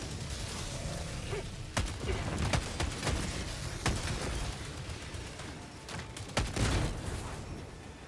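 Enemy gunfire in Helldivers 2 from Automaton robots pounds over a dense, noisy battle, with repeated sharp shots and thuds scattered irregularly across a constant roar of combat.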